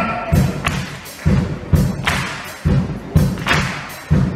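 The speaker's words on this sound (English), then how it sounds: "Everybody, one clap." A Charleston clap tutorial audience claps once in unison, repeated as single loud, sharp group claps in a slow, even rhythm, with nothing else in between.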